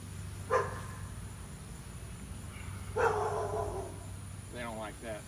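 Caged dogs bark in short bursts, a couple of sharp barks and a whimpering yelp over a steady background hum, moderately near.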